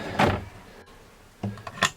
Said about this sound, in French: les tiroirs sont même un petit peu durs parce que ils sont pas rodés encore